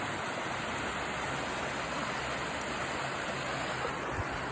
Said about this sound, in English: there's a rest stop on the way back to Nanaimo where there's this waterfall.